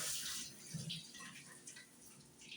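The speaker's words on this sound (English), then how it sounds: "I'm washing my hands" Water running from a tap while hands are washed under it, a steady hiss with soft splashing changes, fairly quiet throughout.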